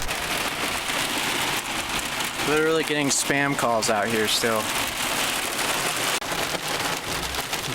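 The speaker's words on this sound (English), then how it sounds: "It's kind of turning into a hail now." Heavy rain pounds down on a 4x4 vehicle on a Colorado overland trail, a dense steady roar as it turns to hail, with a person talking briefly partway through.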